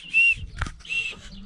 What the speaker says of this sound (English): we're going to check the inlet ports with this little whistle.